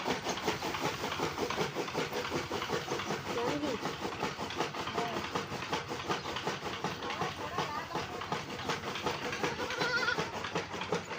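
A goat and her newborn kids bleat now and then against a busy, noisy outdoor background at a home, with faint voices in the mix.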